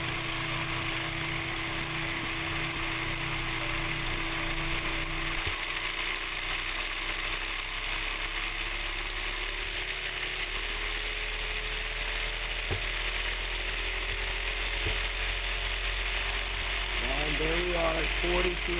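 A see-through centrifuge spins at high speed filtering waste vegetable oil, giving a loud, constant mechanical whine and hum with a tone that slowly rises in pitch near the end.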